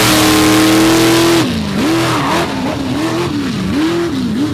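A monster truck engine at a Bloomsburg monster truck show sits at a loud steady idle, then revs hard in a series of rising and falling surges, close and dominant with no talk.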